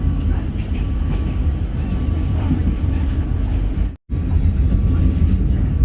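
Arjonegoro train running out of Gubeng station in Surabaya past a road crossing, heard from on board as a steady low rumble and rattle with a faint tonal hum, broken by one brief dropout.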